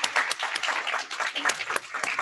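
During a startup pitch event, an audience gives a short burst of applause with distinct individual claps heard in the wash. The sound is steady and moderately faint, with no voices over it.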